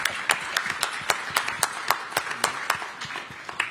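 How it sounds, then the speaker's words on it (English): An audience claps for a speaker at an energy security summit, a steady patter of many hands with irregular sharper claps standing out, moderately close and sustained without talk. "maybe a round of applause"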